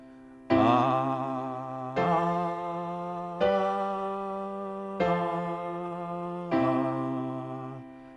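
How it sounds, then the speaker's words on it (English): Five sustained chords sound at a steady pace, each struck and left to ring before the next, clear and close with no talking. The tone is rich and bright like a keyboard rather than a lone humming voice. "So now I'll hum the bass notes."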